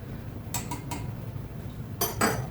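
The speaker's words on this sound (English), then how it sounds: "I will just set this whisk aside" A metal whisk set down among pans while making egg bites, a few light metallic clinks and rattles, two short clusters against a quiet kitchen background.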